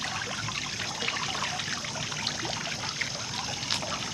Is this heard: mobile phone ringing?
no